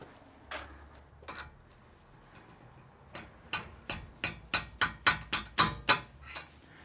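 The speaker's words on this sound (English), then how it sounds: "essentially what you do is you just push it in there, tap it, and hopefully it breaks the tag at the back" Metal hammer taps on a punch pushed through to break a tag during a Renault 5 GT Turbo restoration, two isolated knocks then a steady run of about ten sharp, close taps that grow louder toward the end, with no talking.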